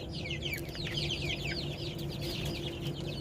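Several hill-breed desi chickens and chicks clucking and chirping continuously in cages over a low background hum, fairly close and moderate in volume.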